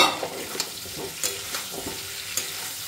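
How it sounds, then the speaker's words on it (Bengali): Food sizzles in a pan with a constant low frying hiss, broken by about half a dozen sharp scrapes and knocks as a spatula stirs it. The stirring is close and there is no talk. "মোটামুটি ভাজা ভাজা হয়ে এসছে।"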